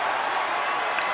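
An esports arena crowd at The International 2016 Dota 2 championship cheers and applauds in a steady, loud roar that fills the hall without a break.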